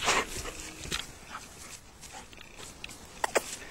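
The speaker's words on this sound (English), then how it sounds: "There's the dogs." Dogs at a lakeside dock on Branch Lake, Maine, giving a few short yips and whimpers at varying distance over light outdoor background noise, with scattered bursts rather than steady barking.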